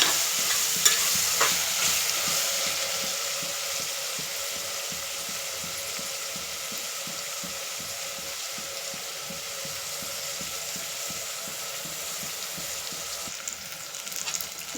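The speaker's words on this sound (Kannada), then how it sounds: "ಇವಾಗ ಈ ಮಟಕ್ಕೆ ಫ್ರೈ ಆಗಿದೆ." Ingredients for veg pulao frying in a pan, a continuous sizzle with steady rhythmic stirring strokes throughout, no speech.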